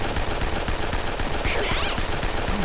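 Guns firing in a zombie action video game, a dense, continuous rattle of rapid shots that stays loud and steady with no pauses.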